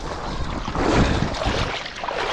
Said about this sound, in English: We are experiencing high wind and we are advised to leave the park.